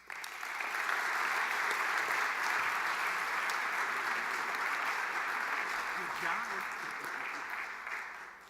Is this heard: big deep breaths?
no